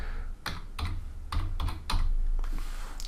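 Fingers tap out a short word on a computer keyboard in a quiet room, giving several distinct, close keystroke clicks spaced unevenly over a few seconds with a low background hum.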